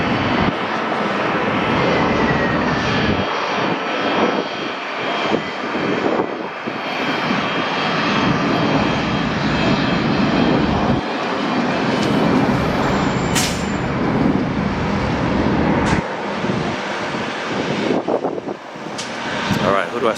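A regional jet airliner on final approach at Atlanta airport makes a loud, sustained engine roar that swells and holds, with people talking over it throughout.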